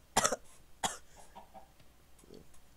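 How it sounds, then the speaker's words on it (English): Two sharp coughs close together near the start, followed by quieter rustling and a faint throat sound. "trying so hard not to cough"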